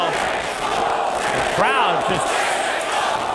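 A boxing crowd reacts to a knockdown, a dense roar of voices with shouts rising briefly near the middle, steady and loud throughout with commentary talk over it.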